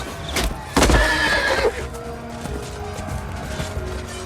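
A horse whinnies loudly and close by as a king flees on horseback from a camp, followed by softer clattering hoof and mechanical sounds.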